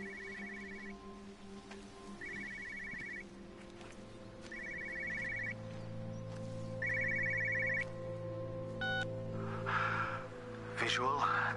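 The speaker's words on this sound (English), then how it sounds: "I hear the phone." A telephone rings in repeated evenly spaced bursts in the game Everybody's Gone to the Rapture, heard over a low ambient hum, followed by a faint breathy gasp and some electronic distortion near the end.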